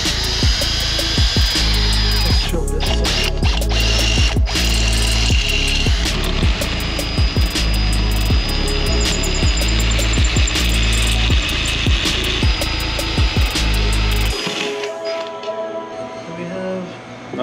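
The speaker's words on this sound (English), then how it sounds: "Nothing like drilling a hole in a really expensive oil tank." Power drill boring through an expensive oil tank on a Formula Supra build, a loud continuous whine with repeated sharp bites and crackles for about fourteen seconds before winding down, close to the microphone.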